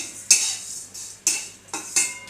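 Thin vermicelli being dry-roasted in a pan is stirred, with three distinct scraping strokes of a utensil against metal in an uneven rhythm over a quiet background.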